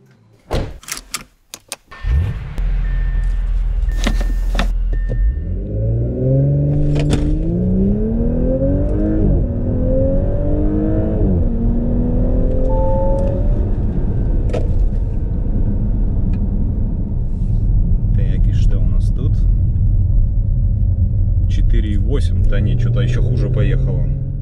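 An Audi S5 B9 with a 3-liter engine and cold air intake pulls hard from a standstill, engine note rising through gears with shift breaks, loud and close inside the cabin after a door thud and brief cabin noises.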